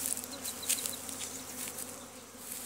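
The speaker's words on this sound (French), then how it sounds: "Voilà le rucher" Honeybees buzz steadily at an apiary whose hives carry pollen traps, a continuous close hum with no voices.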